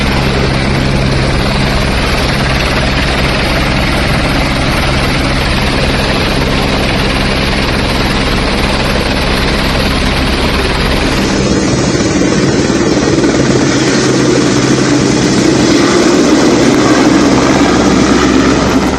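An army Mi-17 helicopter flying a rescue mission after a glacier collapse in Uttarakhand, its loud, steady rotor and engine roar filling the whole stretch with a slight change in tone partway through.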